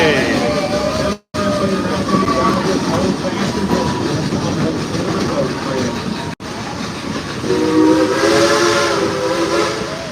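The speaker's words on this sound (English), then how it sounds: "I'll tell you a little bit about this rolling diesel engine that we're riding behind today." Rolling diesel engine hauling the Dollywood Express passenger train, number 192, with steady loud rumbling and clatter, a whistle-like tone toward the end, and a voice talking over the ride.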